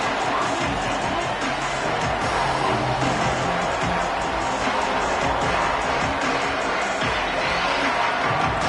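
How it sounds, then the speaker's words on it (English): A stadium crowd in the College Football 27 video game keeps up a steady, dense roar throughout, loud and enveloping, with a commentator's voice faintly under it. "This crowd ready to make its presence known."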